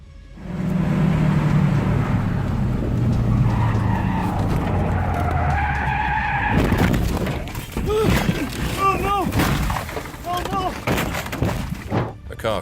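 A car skids on a mountain road with a long tire squeal, then crashes against the mountainside with an abrupt impact, followed by excited voices and chirpy bird-like squeaks.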